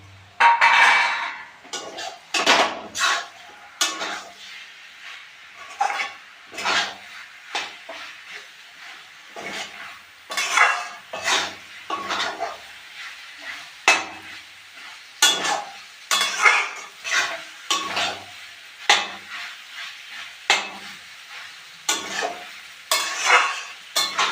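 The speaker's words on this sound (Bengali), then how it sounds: "এখন আমি এর মধ্যে চিনি দিয়ে নাড়াচাড়া করে নামিয়ে দেব।" Cooked mixed vegetables for a vegetarian dish are stirred with sugar in a pan: a dense, uneven run of spatula scrapes and clanks over light frying sizzle, close and fairly loud, with no speech.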